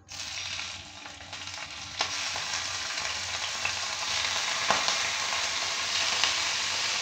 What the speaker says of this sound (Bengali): তেল দিয়ে দিচ্ছি। এবার দিয়ে দেবো চিংড়িগুলো।